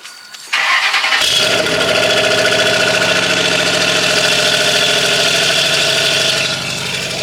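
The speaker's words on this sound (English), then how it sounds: "I do want to give y'all a little cold start" A Ford Mustang 3-valve engine with modifications cold starts, cranking briefly, then firing up and roaring loudly, settling into a steady, rumbling idle close by.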